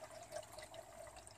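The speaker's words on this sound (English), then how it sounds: "Air is getting purged out of the radiator." Coolant being poured into the radiator of a Lexus RX350 with a 2GR-FE V6 as trapped air purges out, giving a steady watery gurgling and bubbling that stays faint and continuous throughout.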